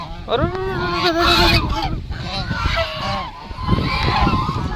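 Loud, close honking calls from several white male ducks overlap in rapid succession, harsh and nasal, with some background noise.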